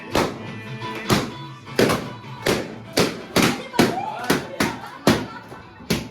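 Balloons bursting at a birthday party, a series of about nine sharp pops spaced irregularly across several seconds, loud and close, with voices chattering faintly underneath.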